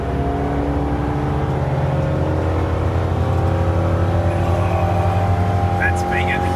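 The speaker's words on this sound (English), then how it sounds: "That's pinging. This kills engines." A van engine with a premature-ignition fault idles and revs with a steady droning hum and faint pinging, a close, loud mechanical tone running throughout with a voice briefly heard near the end.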